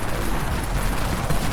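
Dawn assault rifle firing full auto in the video game Dead Frontier, a rapid continuous stream of loud gunshots with no pauses.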